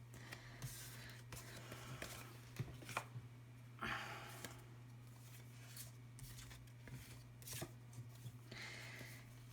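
Tarot cards are gathered and shuffled back into order during a card reading: soft, faint rustles, slides and light taps come in short bursts, with the quiet low hum of the room underneath.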